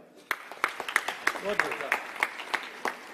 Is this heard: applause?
yes